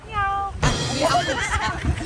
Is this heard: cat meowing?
yes